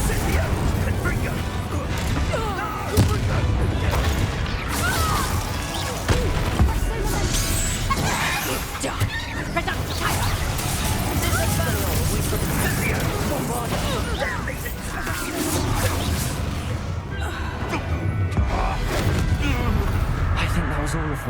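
Fiery Confringo and Incendio spell blasts in the Hogwarts Legacy video game go off in a dense, continuous barrage of crackling bursts and booms over a layer of game action, with a voice shouting over them.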